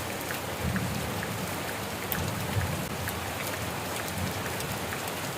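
Heavy rain pouring steadily, a dense, loud, unbroken hiss of drops hitting surfaces nearby, with no voices.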